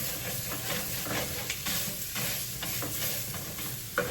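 Chicken and Italian sausage cook in a pan with a continuous, close sizzle and hiss, plus faint scraping as the meat is moved around.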